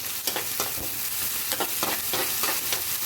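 Tomato, onions and green chillies fry in oil in a pan, giving a steady close sizzle with a few soft stirring scrapes and no voices.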